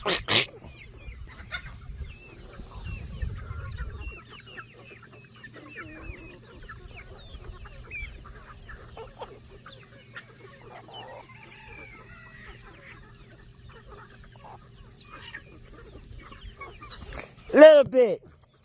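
Backyard chickens cluck softly at close range through much of the stretch, with a brief louder call near the end, while a person speaks quietly at times.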